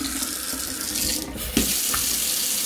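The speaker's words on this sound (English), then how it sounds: "Water's running fine." Water runs steadily from a sink tap crusted with limescale, a continuous close splashing hiss that fills the room with no speech over it.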